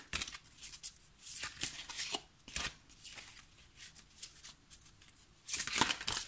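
Oracle cards being shuffled by hand, a series of soft papery riffles and flutters coming in bursts with short pauses, close and fairly quiet, with no talking.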